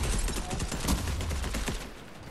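Rapid volleys of gunfire in the Fortnite battle royale game, a loud continuous rattle of shots lasting a couple of seconds with no speech.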